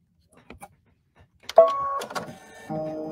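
An embroidery machine stitches a spring floral design, starting after a few faint clicks with a close, steady mechanical whir and rapid needle pulsing, pausing briefly before resuming.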